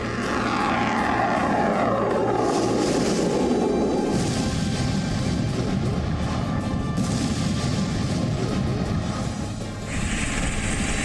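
Russian military helicopters fly overhead, a loud, continuous rotor and engine roar that fills the whole stretch with no pauses.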